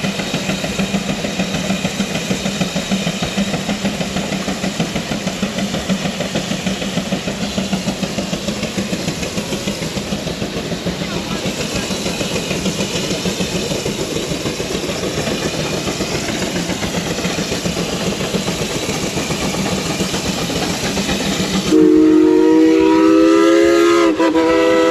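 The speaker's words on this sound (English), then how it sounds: "here we are for the fireworks, or for the steam traction engine spark show" A steam traction engine running under load labours loudly with a fast, steady chugging beat, and a shrill whistle cuts in near the end.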